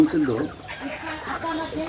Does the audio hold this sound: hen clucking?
yes